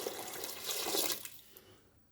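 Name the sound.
water poured into a cooking pot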